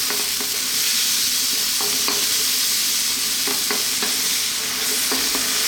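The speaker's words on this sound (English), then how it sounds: "on this high heat, we're going to throw these around in the wok, stirring pretty much all the time" Shrimp stir-fried in a wok over high heat give off a loud, constant sizzle, broken by repeated scraping and tossing clatters as the spatula works, close up, with no one speaking.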